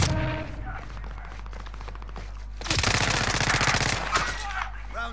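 Incoming gunfire in Call of Duty Warzone on Rebirth Island in resurgence quads: loud, rapid automatic bursts crackle in fast runs, swelling into a dense volley midway.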